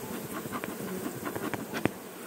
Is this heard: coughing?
no